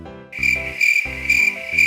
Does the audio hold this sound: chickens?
no